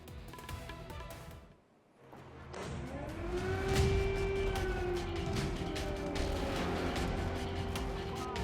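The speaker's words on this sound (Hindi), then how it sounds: "और फिर अचानक सायरन की चीख।" An air-raid siren during the war in Ukraine, at night: distant, it winds up and holds a long, steady wail over a low background rumble, faint throughout.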